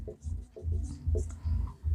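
A formula is written out by hand in quick, close scratching strokes that come in short rhythmic bursts with brief pauses between them.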